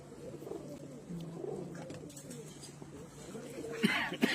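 Pairs of performer pigeons on a rooftop coo softly in low, rolling calls, repeated over a quiet background with a few brief clicks and rustles toward the end.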